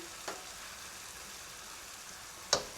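Tuna pieces for a Provençal-style dish frying near the end of cooking, giving a soft, steady sizzle in the pan, broken by two brief sharp clicks or taps.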